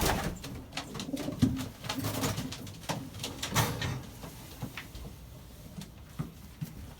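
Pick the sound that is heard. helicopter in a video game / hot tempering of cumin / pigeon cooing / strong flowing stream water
pigeon cooing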